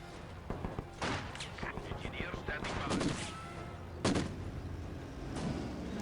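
Maxim machine gun fire crackles in Company of Heroes 2 battle gameplay, with bursts of rapid shots, heavier thumps and explosions mixed into a busy, layered combat soundscape.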